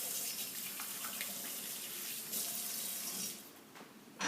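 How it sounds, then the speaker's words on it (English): A kitchen tap runs steadily while hands are washed under it, a close hissing stream with small splashes and shifts in the flow as hands move through the water. "I'm going to wash my hands really quickly"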